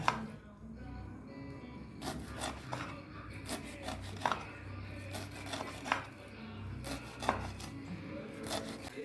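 Radish greens chopped with a knife on a board, a series of crisp, fairly close cuts at a slow, uneven pace, with faint background noise between the strokes.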